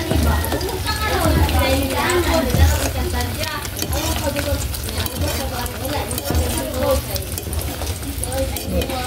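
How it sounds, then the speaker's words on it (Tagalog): Thick champorado is stirred in a pot, a continuous loud scraping and bubbling churn that runs steadily under a person talking. "i-mix up natin"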